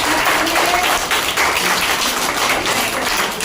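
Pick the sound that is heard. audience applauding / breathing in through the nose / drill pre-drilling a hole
audience applauding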